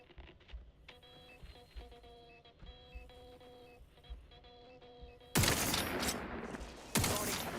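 Gunfire in the Outer Worlds video game comes as faint, intermittent clicks and beeping tones, then two loud, dense bursts of shots near the end, with no voices.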